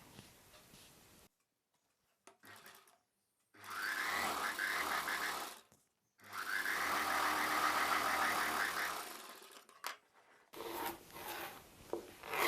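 Sewing machine stitching blouse sleeve pieces together, running in two long steady bursts of rapid mechanical whirring with short pauses and lighter handling noises between, close and clear.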